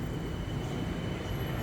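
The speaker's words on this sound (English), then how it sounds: "So here's my train pulling up." A Bangkok BTS Skytrain arrives at Phrom Phong station, a steady close rumble of rail cars that stays even throughout, with a faint high whine above it and no voices.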